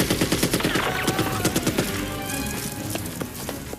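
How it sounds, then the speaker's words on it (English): An M60E3 machine gun fired by Sly Stallone in a Rambo film, its ammo belt wrapped around his arm, rattles off dense rapid bursts with shells flying, loud and continuous amid film soundtrack layers. "the M60E3 allows him to get an even feed of bullets to his weapon by wrapping the ammo belt around"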